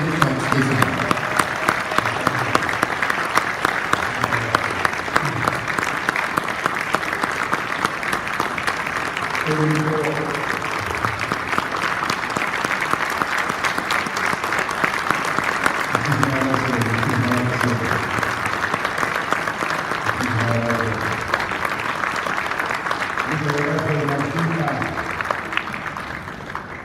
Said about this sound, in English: Please give a round of applause to the former president of Mexico, Vicente Fox